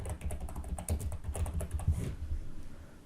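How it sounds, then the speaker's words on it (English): Fingers tap quickly on a computer keyboard, a close burst of clicking keystrokes that slows and stops after about two seconds. "Just type in over here,"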